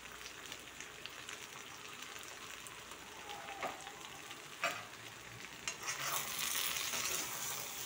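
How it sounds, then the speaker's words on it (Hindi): Potato and brinjal pieces fry in a pan with spices, giving a steady close sizzle, with scraping stir strokes and a few sharp clicks of the spoon against the pan. "और इसे अच्छे से भूनिए"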